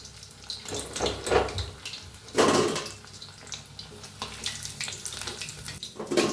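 Chicken 65 pieces deep-frying in oil over a lowered flame give a loud, bubbling crackle that swells and surges in waves throughout.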